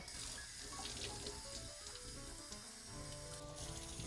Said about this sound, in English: Now I'm going to take it over to my dye sink and rinse it out.